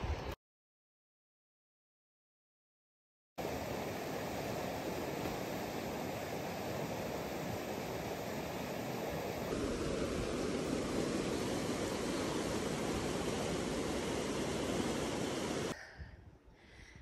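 Steady broadband rush of a mountain river flowing along the Colorado Trail, a dense continuous roar heard up close after a brief silent gap, with no voices.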